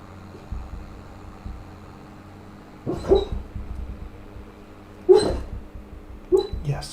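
A dog asleep under a table gives muffled, short woofs and whimpers while it dreams, three brief soft bursts spaced a couple of seconds apart over a low hum in a quiet room.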